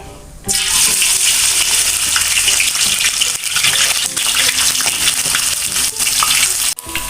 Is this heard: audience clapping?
no